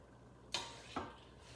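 Vegetables and lentils for a nine-grain khichdi tipped into a cooking pot, giving two quick soft swishing clatters about half a second apart, faint and close, with no talking.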